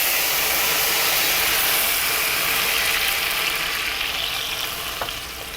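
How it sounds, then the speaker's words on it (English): Apple cider vinegar poured into a hot pan of cooking oil residue after turkey cutlets, a loud broad hissing sizzle that holds steady and fades toward the end, with a small clink near the close. "I am going to deglaze our pan with some apple cider vinegar"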